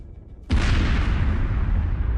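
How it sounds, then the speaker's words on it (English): A drone strike sets off a tank, producing a sudden loud blast that cuts in after a quiet moment and rolls on as a heavy, sustained roar of detonation and fire. "At first glance, the explosion is insignificant, but it is followed by a fire"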